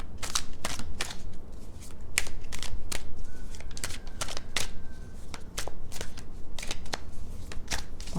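Tarot cards being shuffled by hand: a steady run of crisp riffling snaps and soft slides, close and fairly loud, repeating in quick irregular bursts for several seconds with no talking.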